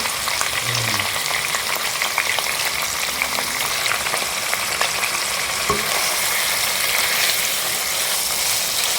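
Steady, loud sizzling and crackling of prawns frying in a hot pan, with occasional stirring scrapes and no talking.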